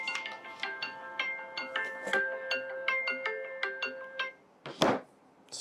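A mobile phone ringtone plays a bright, repeating electronic melody of quick plucked notes for several seconds, then cuts off, followed by a short burst of rustling handling noise.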